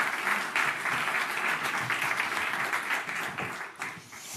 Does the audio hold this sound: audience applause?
yes